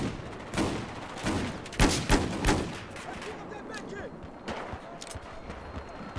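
A Desert Eagle pistol fitted with a red dot sight fires in Battlefield 4, with several sharp, fairly loud shots spaced irregularly among distant battlefield rumble and other gunfire, and a voice talks over them.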